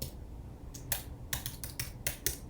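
Quick bursts of clicky keystrokes on a computer keyboard, several short clusters of taps, close and fairly quiet, with no talking.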